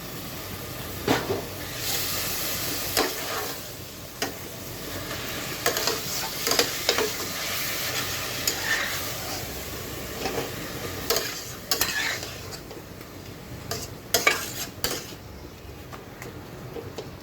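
A river fish head dish fries in a pan with a soft continuous sizzle, punctuated by irregular scrapes and clatters of stirring and utensil knocks over a long stretch.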